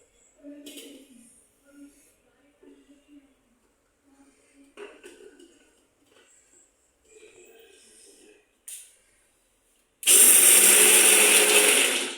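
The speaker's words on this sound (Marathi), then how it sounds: "आता काजू बारीक करते मी मिक्सरवरती" A kitchen mixer grinder whirs loudly and steadily as it grinds cashews, starting abruptly after several seconds of soft handling clatter and faint scattered sounds.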